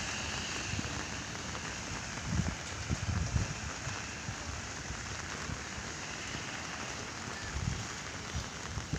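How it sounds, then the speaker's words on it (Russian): Steady heavy typhoon rain pouring down in Komsomolsk-on-Amur, a dense continuous hiss with occasional louder splashes of water nearby. "Ливень всю"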